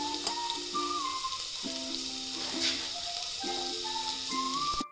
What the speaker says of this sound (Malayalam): ഉള്ളിയും കറിവേപ്പിലയും ഇട്ട് കൊടുക്കും. പിന്നെ അത് ചെറുതീയിൽ നമുക്ക് അതിലൊന്ന് വേവിച്ചെടുക്കാം